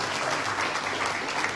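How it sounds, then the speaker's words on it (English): Dense, continuous round of applause from a crowd at a Hindu devotional gathering, filling the short moment evenly without pauses. "Please give yourself a round of applause."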